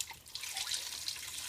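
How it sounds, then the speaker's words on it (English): Broth from a whole carton pours into a crock pot of white beans and ham, a brief, close, splashing trickle of liquid with no talking. "I'm going to put this whole entire box of broth in here"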